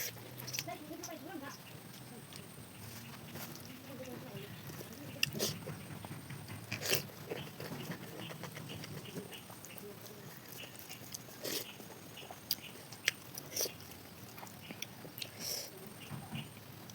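Close-up eating of home-cooked fish curry during a mukbang: steady soft chewing, wet smacks and small crunchy bites, with sharper clicks now and then, all at fairly low volume.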